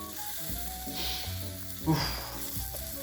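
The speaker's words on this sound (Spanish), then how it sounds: "con el aceite bien caliente vertimos el pollo" Chicken pieces dropped into very hot oil for Peruvian pollo saltado, giving a steady close sizzle and frying hiss with a sharper burst of crackling partway through.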